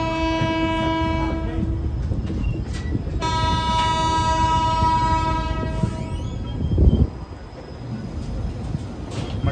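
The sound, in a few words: train running on the tracks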